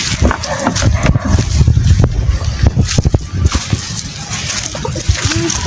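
Water splashes and sloshes steadily as several people wade across a river, with a continuous rushing background.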